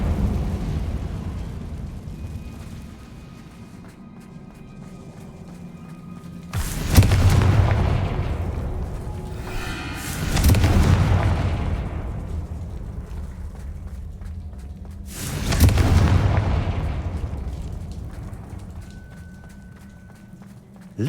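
Three heavy spell blasts from the Confringo fire curse in Hogwarts Legacy boom out one after another, each a broad rumbling burst that decays over a couple of seconds against a low ambient game background.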